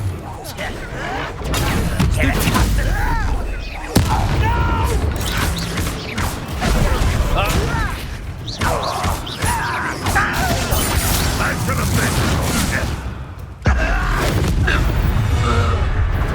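Confringo fire spells burst repeatedly during combat in the video game Hogwarts Legacy, with loud booming impacts and crashes layered over continuous game music and battle noise, including sharp hits near 4 and 13.7 seconds; characters speak throughout.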